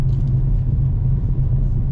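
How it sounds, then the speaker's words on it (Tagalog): Rush hour traffic on a busy road in Albuquerque, New Mexico, makes a heavy, continuous low rumble of car engines passing close by, with no talk over it. "Kaya po tingnan nyo, sumisikip na yung traffic dito."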